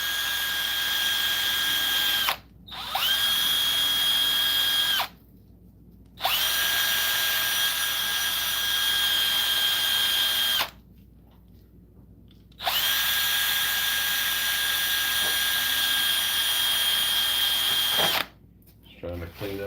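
A handheld power drill with a sanding pad whines steadily while scrubbing rust off the brake parts of a 90s Mercedes, running in several long bursts separated by brief pauses, close and loud.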